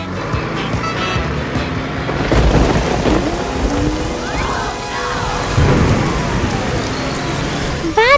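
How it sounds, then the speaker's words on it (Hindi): Steady rain pours on surfaces while deep thunder rolls and rumbles several times, loud and close, with a voice briefly heard near the end. "बारिश बारिश, चली जाओ।"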